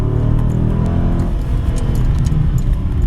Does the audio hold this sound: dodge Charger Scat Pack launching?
yes